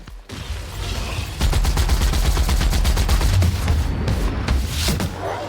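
Rapid bursts of gunfire shooting at a target in a space setting, loud, dense automatic fire rattling continuously for several seconds with heavy low booms underneath.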